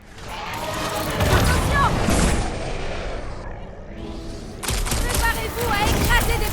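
Enemy gunfire and crashing impacts in the Guardians of the Galaxy video game, a dense, loud barrage that briefly drops out before resuming, with a voice talking over it.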